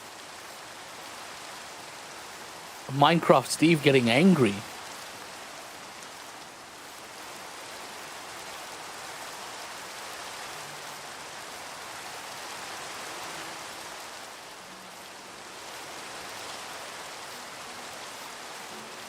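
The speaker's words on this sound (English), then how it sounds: "Now it's raining." Steady rain falls in the video game Minecraft, a soft even hiss that runs the whole time, with a brief tonal game sound or voice popping out near the start.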